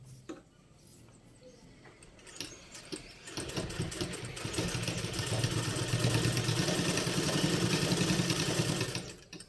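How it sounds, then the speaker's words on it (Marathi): After a few quiet seconds, a sewing machine starts stitching the bottom hem of a pair of pants, building into a steady, rapid rhythmic whir that runs almost to the end. "आता याच्यावर आधी आपण दाब शिलाई मारून घेऊ, त्यानंतर वरची बाजू स्टिच करू."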